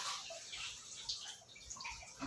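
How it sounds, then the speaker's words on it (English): Water from a Livpure Envy alkaline RO purifier's filter flushing through a connected tank pipe, a steady hissing, splashing flow like a tap running into a basin, close and fairly faint throughout. "This is all about the flushing of the filter."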